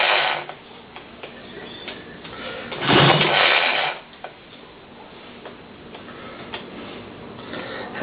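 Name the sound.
hand cranking the rope puller of a peak voltage tester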